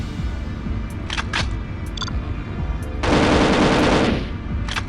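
Video game gunfire: a few short sharp shots early on, then a sustained rapid burst of automatic fire lasting about a second, loud and close over a low background rumble.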